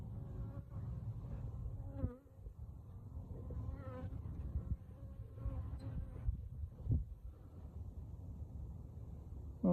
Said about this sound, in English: there are bees around this box